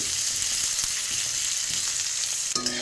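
Chopped onions frying in a pan for a potato and eggplant curry with mustard sauce, a steady close sizzle that stays even throughout, with a brief clatter of stirring near the end.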